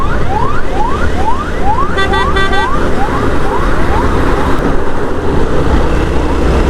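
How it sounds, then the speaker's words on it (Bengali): An ambulance on a Chittagong highway sounds a loud, rapidly repeating wailing siren near a motorbike, with a short burst of electronic yelp tones, over steady engine and wind roar. "অ্যাম্বুলেন্সটা খুবই ইমার্জেন্সি মনে হইতেছে"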